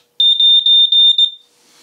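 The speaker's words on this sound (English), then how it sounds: "you can suppress the annoying alarm by depressing the test button" An RV propane alarm gives its end-of-life warning: one loud, piercing high-pitched electronic tone held for about a second, pulsing slightly, then cutting off, heard alone.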